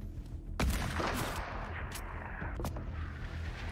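Rocket-propelled grenade fire in the video game Fortnite: a couple of sharp bursts and booms over a continuous game soundscape, with a second softer crack a couple of seconds later.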